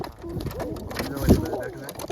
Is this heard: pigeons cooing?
yes